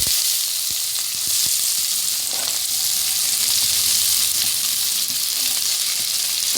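Onion, ginger, green chili and coconut sizzle steadily in hot coconut oil for a Thrissur-style pork fry, a close, continuous hiss broken by a few scraping stirs and soft clicks, with no voices.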